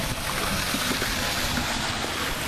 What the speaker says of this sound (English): fire hydrant is just open and gushing out